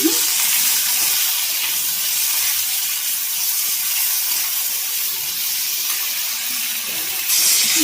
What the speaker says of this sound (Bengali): লঙ্কা দিয়ে দিলাম কুচি কুচি করে আর এখানে কিছুটা হলুদ দিব